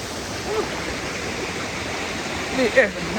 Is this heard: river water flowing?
yes